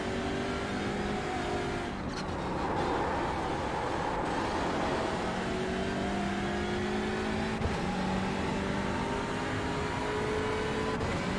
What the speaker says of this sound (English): Porsches coming in from behind.